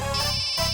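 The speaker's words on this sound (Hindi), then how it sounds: "अरे यार, मेरी वाइफ को भी अभी फोन करना था।" A mobile phone rings with an incoming call from a wife, giving a close, loud electronic melodic ringtone that sounds continuously with a brief shift in tone partway through.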